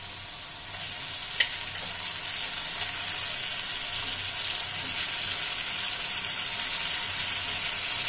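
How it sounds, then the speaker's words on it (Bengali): Fish frying in a pan with onion and chilli, a steady loud hiss and sizzle that runs unbroken throughout with a faint clink of a utensil early on, close up and without talk. "আমরা মাছগুলো দিয়ে দেবো, এর মধ্যে ঝোল সমেতই দিয়ে দেবো"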